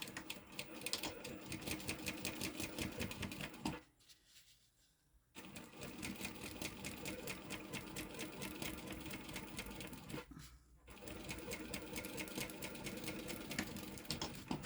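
A sewing machine stitches a seam on a sling bag in long, steady runs of rapid needle strokes, pausing twice briefly before resuming at full speed, close and loud.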